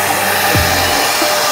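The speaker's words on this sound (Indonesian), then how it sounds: "Kita sedang dalam proses vakum dulu untuk menghilangkan debu-debu." A vacuum cleaner runs steadily while cleaning the interior of a 2023 Daihatsu Sigra with a manual transmission, a close constant whine with a brief low bump partway through.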